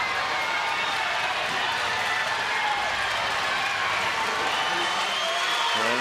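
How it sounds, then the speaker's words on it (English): Little League World Series crowd at a baseball game keeps up a broad, continuous roar of cheering and clapping, heard at a distance and swelling slightly, with no speech on top. "And the crowd, you can hear it in the background, getting even a little bit louder for Trevor Skowronek"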